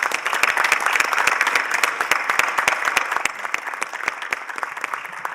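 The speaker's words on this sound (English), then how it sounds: "we'll give them a round of applause for supporting your children" Sustained round of applause from an audience at a city schools board of education meeting, steady dense clapping throughout, loud and close, tapering slightly toward the end.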